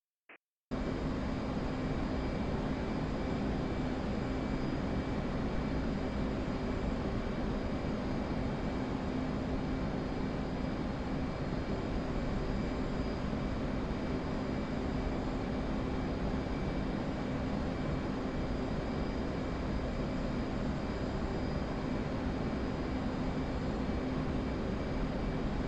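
A constant, steady aircraft engine drone from a flight simulator game, heard as the plane comes inbound to land, a dense even roar running unchanged from start to finish with no voices.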